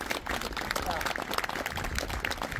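Applause at a building inauguration ceremony, a steady patter of many hands clapping throughout at moderate distance, fairly soft and even, with a little crowd murmur mixed in.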